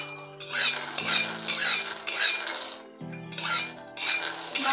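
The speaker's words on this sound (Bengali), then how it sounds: "এবারে বাদামগুলো কড়াতে ভেজে নেব" Peanuts fry in a hot wok over a high gas flame, stirred with a metal spatula, giving repeated scraping, clinking strokes over a soft steady hum, with no talking.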